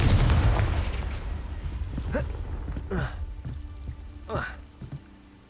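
A Confringo blasting spell in the video game Hogwarts Legacy erupts in a loud, low explosive boom, followed by several sharper magical bursts and crackles spread across the next few seconds.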